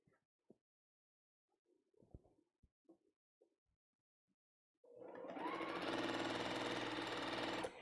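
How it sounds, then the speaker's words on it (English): A sewing machine stitches fabric back onto a quilt block, a steady, fast mechanical whir running continuously for about three seconds after a stretch of quiet, faint handling noises. "now I'm going to stitch this back on"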